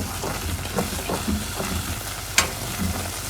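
Egg being stirred into congee in a hot pan, a soft steady sizzle with scraping stir strokes at an irregular rhythm and one sharp clink of the utensil near the end, close up and alone.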